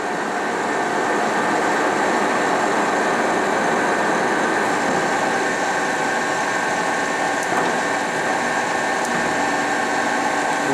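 A 60-inch Webster & Bennett vertical turning and boring machine running at 36 RPM, giving a steady, loud mechanical drone with broad hum and whir that holds unchanged throughout, no talk.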